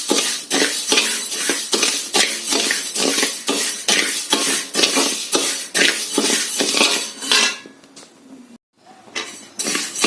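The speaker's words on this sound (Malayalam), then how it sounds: "നമുക്ക് അരി വറുത്തുകൊണ്ടിരിക്കുകയാണ്." Rice dry-roasting in a pan while being stirred makes brisk, rhythmic scraping and rattling strokes, loud and close, repeating steadily before a short pause near the end.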